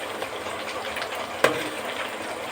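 Dried red chillies and curry leaves hit hot oil for a mutton pickle, a steady close sizzle with a brief louder crackle burst midway and no talking.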